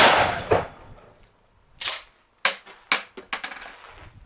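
Shotgun blasts firing buckshot at an outdoor target, a loud opening shot followed by several sharp reports spaced about half a second apart, each trailing off quickly into quiet.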